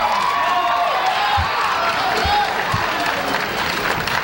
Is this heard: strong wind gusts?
no